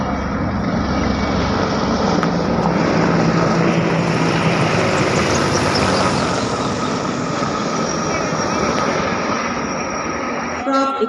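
Military helicopters of a squadron roar past in a Republic Day parade flypast at India Gate, a loud, dense, continuous rotor and engine wash filling the whole stretch before cutting off near the end.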